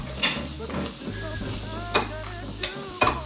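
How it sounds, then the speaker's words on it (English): A spoon stirs sugar-free lemonade sweetened with erythritol, giving several light clinks against the glass over a low steady hum, with a person talking throughout. "Let's give it a stir again."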